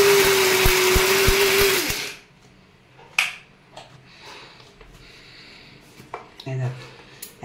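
A small electric spice grinder whirs loudly at high speed as it grinds gram into flour for about two seconds and then stops. Someone talks over the quiet that follows, with a few light clicks and knocks.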